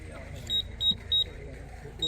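A run of short electronic beeps from a low-power pad's battery leads, marking battery voltage just after the red and black leads are hooked up. Three or four brief high tones come at uneven intervals over a low background hum.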